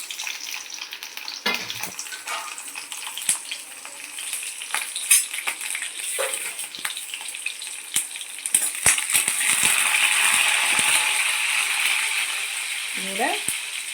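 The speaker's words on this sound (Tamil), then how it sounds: "கடுகு போட்டுப்போம். கடுகு பொரிஞ்ச பிறகு பச்சை மிளகாய் 2 சேர்த்துக்கலாம்." Mustard seeds crackle and pop in hot oil, a steady near sizzle with scattered sharp spits and a brief clink near the end, no voices.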